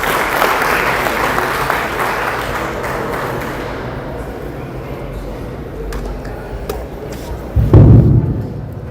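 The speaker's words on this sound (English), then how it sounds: "Round of applause." Audience applause at a Sikh community gathering, a sustained wash of clapping that slowly thins out, with a loud thump near the end.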